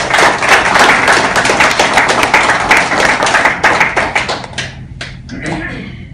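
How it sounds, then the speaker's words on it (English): Office staff clapping at a farewell for a long-serving employee, dense sustained applause from a crowd of many hands that thins out and stops near the end, with a few scattered claps afterwards. "I would request all the staff members to give a big round of applause for his 40 years of service"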